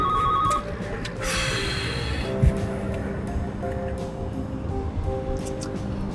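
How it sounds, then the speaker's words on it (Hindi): A mobile phone rings briefly inside a car, a short electronic ringtone at the start that cuts off and gives way to a steady low hum from the vehicle. "आपका फोन बज रहा है।"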